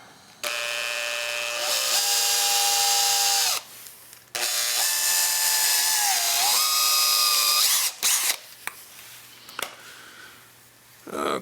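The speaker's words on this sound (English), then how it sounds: "I got to see where I want to put the drill bit" A power drill spins a bit in two sustained whining runs of several seconds each, its pitch dipping as it bites under load, followed by a few short bursts.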